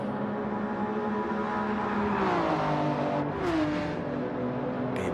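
GR3 race cars roar around the Nurburgring Nordschleife in a racing game, a dense, constant engine whine whose pitch bends downward and climbs again as the cars shift and pass.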